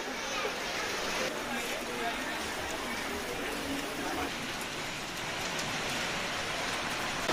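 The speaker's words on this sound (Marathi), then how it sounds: "वसई विरारमध्ये सकाळपासूनच पावसानं हजेरी लावली." Steady rain falls across Vasai-Virar in a morning downpour under an orange weather alert, a constant even hiss of drops on surfaces with no clear voices.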